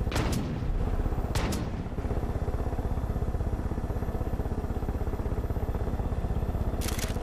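Sustained gunfire in Far Cry 5, a rapid automatic stream running almost the whole time, loud and close. A few sharper, brighter cracks stand out near the start and again at the end.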